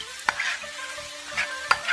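Chicken frying in a pan and being stirred: a steady sizzle with repeated scraping, clattering strokes of a utensil against the pan, close and fairly loud, with no talking.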